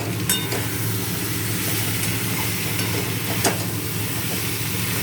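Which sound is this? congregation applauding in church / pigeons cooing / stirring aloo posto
stirring aloo posto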